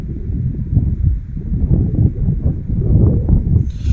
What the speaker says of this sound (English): And of course, like I say, it is windy